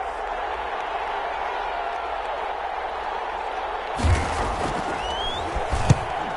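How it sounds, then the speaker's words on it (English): A broad football stadium crowd roars and applauds for the defense, with a brief thump and a faint whistle partway through, the noise swelling after a steady murmur. "How about some applause for the defense there?"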